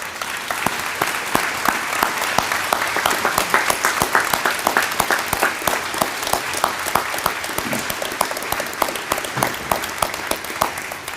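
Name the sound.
applause for teachers and staff at graduation ceremony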